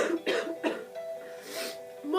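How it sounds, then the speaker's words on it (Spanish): Acted coughing for a Spanish cough syrup commercial: a quick series of harsh, close coughs and throat-clearing bursts in short rhythmic clusters, with a voice sounding between them. "¿Tú tienes una tos?"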